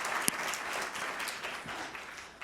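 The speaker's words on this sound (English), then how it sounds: "Let's hear a massive round of applause for Amy Knight" Applause from a business-talk audience greeting an e-commerce founder, a soft, fairly distant wash of steady clapping with a few sharper claps. No one speaks over it.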